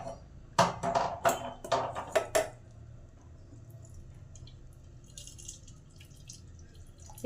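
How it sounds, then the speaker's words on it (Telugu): Cooking water pours off boiled mutton kidneys in a few quick splashy bursts, close and fairly loud, then settles into faint drips and quiet background. "ఆ నీళ్ళు ఇప్పుడు వంపేసుకుందాము"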